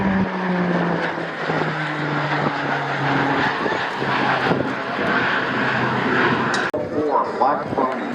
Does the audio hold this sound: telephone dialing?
no